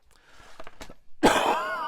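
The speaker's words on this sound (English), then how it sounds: "So I coughed again" A woman gives one sharp, close cough after a few faint breathy sounds, followed by a lingering raspy throat sound.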